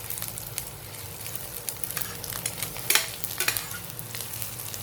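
Vegetables fry in a pan at lunch, giving a constant soft sizzle and hiss. Occasional stirring scrapes and crackling bursts rise over it, heard fairly close and moderately quiet.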